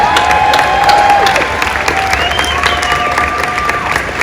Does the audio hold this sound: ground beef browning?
no